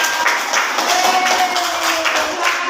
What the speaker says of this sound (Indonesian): beri Tapi tepuk tangan warnanya untuk juga. kelompok 3.